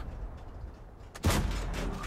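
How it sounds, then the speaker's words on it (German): A single heavy tank cannon shot booms out in World of Tanks after a stretch of low, rumbling quiet, its blast lingering as a loud, broad roar. "Erster Schuss klappt nicht, zweiter Schuss klappt auch nicht."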